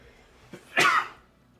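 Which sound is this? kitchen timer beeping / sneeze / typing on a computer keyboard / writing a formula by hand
sneeze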